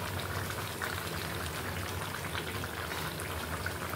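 Bean curry with dried fish (shutki) simmering under a lid, a continuous soft bubbling and hiss of liquid at the boil, steady and close with no voices.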